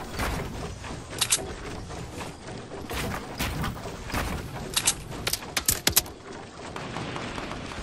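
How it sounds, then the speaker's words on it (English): Gunfire in a video game comes as scattered sharp cracks and a cluster of quick shots near the end, all fairly faint against a busy game soundscape, with no talk over it. "Who shot those shots?"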